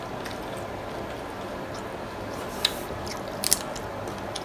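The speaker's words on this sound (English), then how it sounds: "Let's take a bite." Someone bites into crunchy ranch tacos and chews. The chewing is mostly soft and close, with a couple of sharp crunches near the end.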